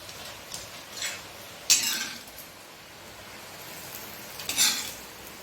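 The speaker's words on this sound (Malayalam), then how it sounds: "നമുക്ക് ഈ വറവ് ഈ ചമ്മന്തിയിലേക്ക് ഒഴിച്ചു കൊടുക്കാം" Hot tempering is poured into a curry leaf chutney, giving a soft frying hiss with a few brief bursts of sizzle and light stirring or utensil clicks, fairly close and moderate in level.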